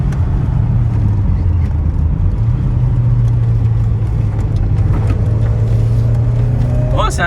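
A 1987 Citroën BX GTI engine drones loud and steady from inside the car, holding a sustained hum with slight rises in pitch, continuous throughout.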